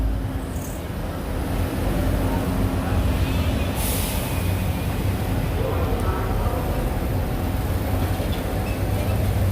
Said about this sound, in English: Yeah, that's the train up there.